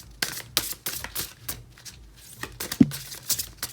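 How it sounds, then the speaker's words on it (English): Lunar Nomad Oracle cards are shuffled by hand in short, crisp bursts of clicks and riffling flutters, irregular and close, with quiet gaps between the bursts. "I find these cards so hard to shuffle."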